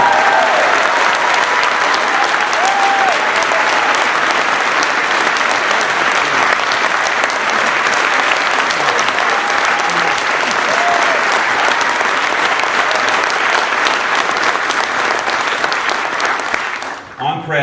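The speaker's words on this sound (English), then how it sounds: "Can we please give them a big round of applause?" Big, loud round of applause from a large crowd at a Victorian Labor campaign launch honouring paramedics and patient transport ambulance staff, dense and sustained for about seventeen seconds before cutting off abruptly.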